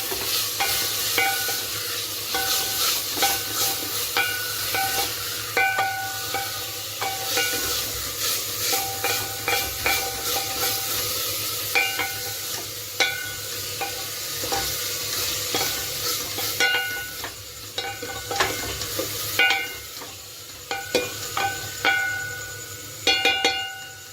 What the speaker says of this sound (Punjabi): ਪਿਆਜ਼ ਨੂੰ ਵੀ ਆਪਾਂ ਚੰਗੀ ਤਰ੍ਹਾਂ ਭੁੰਨ ਲਵਾਂਗੇ